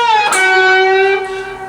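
Electric guitar from a solo: a pre-bent note picked and released so its pitch glides smoothly, sustaining loudly on its own before tapering off.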